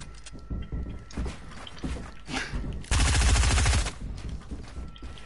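Rapid burst of automatic gunfire in a video game, loud and close, lasting about a second in the middle and standing above a busy background of game sounds.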